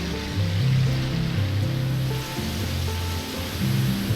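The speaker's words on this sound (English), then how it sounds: "Alright, so it goes through the waterfall." Rushing water from a waterfall on a lazy river ride in the RollerCoaster Tycoon 3 theme park game, a steady, fairly loud wash with a low musical tone beneath it and no talk.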